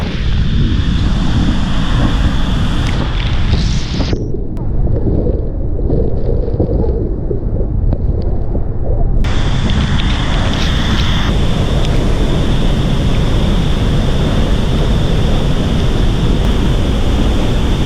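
A loud, constant roar of rushing water fills the scene, broad and powerful from a large waterfall nearby in Venezuela, with wind buffeting the microphone.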